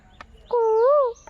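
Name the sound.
Asian koel bird calling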